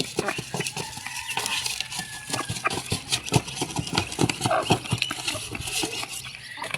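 Rice husk poured out for chickens on a farm, a busy rustling and pattering of loose dry material with scattered louder clicks and thumps, steady and close throughout with a bit of background noise.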